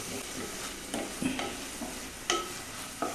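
Cauliflower curry being stirred in a heavy, thick-bottomed pressure cooker pot, with a spoon scraping and knocking against the metal in irregular strokes over a low sizzle, close by and with no talking.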